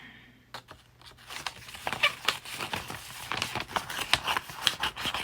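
Scissors snipping through orange-pink and yellow coloured paper into little squares, a steady run of close, crisp cuts with light paper rustling and crinkling between them.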